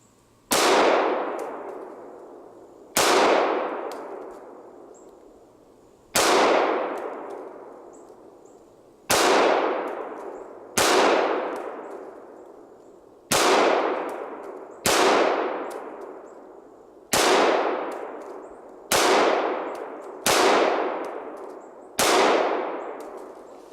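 A Smith & Wesson M&P 9c 9mm pistol fires about eleven loud, sharp single shots at uneven spacing, each crack trailing into a long ringing decay, with no talk.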